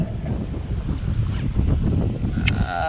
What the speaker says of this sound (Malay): Petang ni angin kuat.